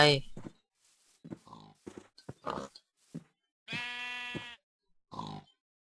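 Pigs grunt in Minecraft version 1.6.2 survival play on a farm with sheep nearby, short snorts scattered between a person's talking, plus one longer drawn-out animal call.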